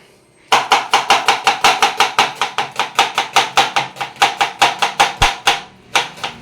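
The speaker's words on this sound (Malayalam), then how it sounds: "ഞാൻ ഇപ്പൊ ഉള്ളി അരിയാം" Rapid, even knife strikes chop onions on a cutting board, a loud close-up series of sharp taps in steady rhythm.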